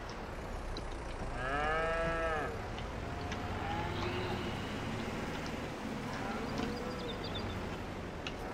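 Cows moo in the Farming Simulator 22 video game, one long drawn-out low call rising and falling clearly over a steady background hum of the game, followed later by fainter, shorter moos.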